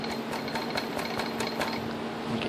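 Hammer blows driving a gear onto a Predator 212-powered 10-speed motorized mountain bike, a rapid series of close metallic taps over a steady background hum.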